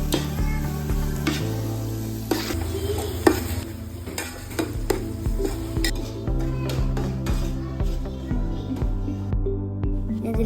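Chopped tomatoes go into a pan of frying onions while cooking Kerala-style Malabari beef biryani, giving steady sizzling with stirring scrapes and occasional utensil clinks against the pan, close and continuous.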